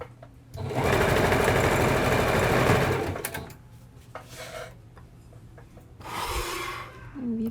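A sewing machine stitches a costume skirt in a loud, steady whirring burst of about two and a half seconds, then quiets to softer handling noises before a shorter run of stitching near the end.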